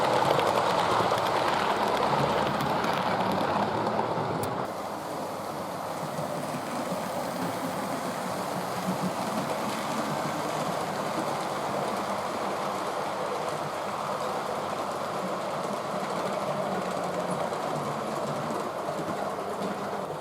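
A pair of model locomotives hauling a rake of Mark 1 coaches rumble continuously along the track with a steady whirring roar, louder at first and then settling to an even running hum.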